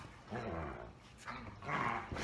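A dog growls and grumbles in low, drawn-out bursts at close range, with no talking.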